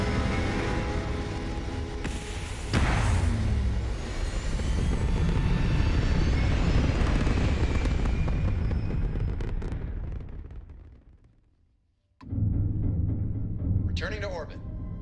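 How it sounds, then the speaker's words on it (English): Spaceship liftoff in the Starfield video game: a loud, sustained roaring engine rumble building and holding for about ten seconds, then fading out to near silence before a new burst of engine noise returns. "All systems stable. Go for liftoff."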